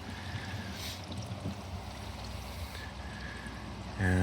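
An RV sewer tank drains through its sewer hose, giving a steady, close rushing and gurgling flow of liquid that runs without a break and swells into a louder surge at the very end.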